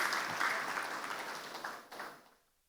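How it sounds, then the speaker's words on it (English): An audience applauds the Honorable Minister at the launch of a social initiatives program in Nigeria, a dense wash of clapping that swells early and then thins and fades out over a couple of seconds. "Please give the Honorable Minister a round of applause"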